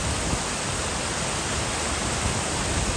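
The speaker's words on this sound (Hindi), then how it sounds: "पानी चल रहा है गाइज, बहुत तेज।" A village river runs fast and swollen after hill rain, its water roaring in a loud, constant hiss that fills the whole stretch with no let-up and no voices over it.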